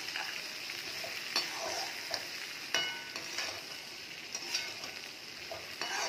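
Cluster beans and potatoes being stirred in a kadai, a steady close sizzle broken by several sharp scraping strokes of the spoon across the pan, with no talking.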